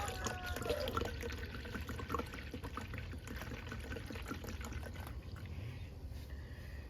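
Liquid compost fertilizer for giant pumpkins glugs and trickles steadily from a container as it is poured, a close, continuous watery pour lasting several seconds with no talking.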